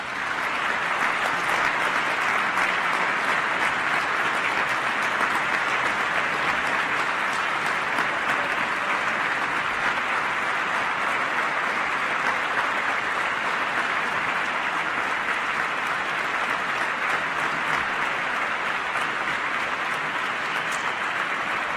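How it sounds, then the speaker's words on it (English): A packed room gives Governor Dayton a standing ovation at a state address, with loud, dense, continuous applause that holds steady the whole time. "all in the room on their feet, giving the governor a standing ovation"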